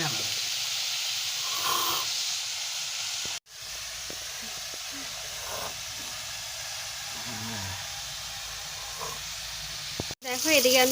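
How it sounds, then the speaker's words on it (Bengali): Potatoes fry in a pan with a steady, bright sizzling hiss that runs continuously, broken by a couple of sharp clicks, while someone talks softly in the background. "আলু ভাজতে বসিয়ে দিয়েছি"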